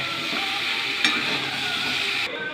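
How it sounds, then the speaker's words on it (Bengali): Meat curry being stir-fried in a pan, a close, continuous sizzle and hiss with one brief clink of a spoon against the pan, steady until it cuts off near the end. "তো কষিয়ে নিই ভালো করে মাংসের তরকারি"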